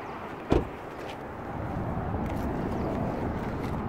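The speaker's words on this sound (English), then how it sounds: "trunk pop here" Trunk latch of a 2016 Nissan Sentra S releasing with a single sharp clunk, followed by a steady low rumble of background noise, close and without talking.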